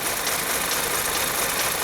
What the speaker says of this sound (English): the engine is stumbling like it's misfiring constantly right now